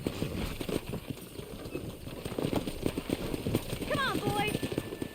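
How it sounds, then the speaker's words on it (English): Wild horses gallop with rapid hoof clip-clops in Red Dead Redemption, steady and fairly close through the clip, with a brief whinny near the end over game ambience. "That ranch hand said there's a pack of wild horses nearby."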